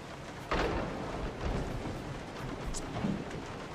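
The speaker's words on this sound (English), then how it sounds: "Now all of a sudden it's raining heavily outside." Heavy rain falls outside in the video game Resident Evil 7, a quiet steady hiss with a low thunder-like rumble swelling in partway through.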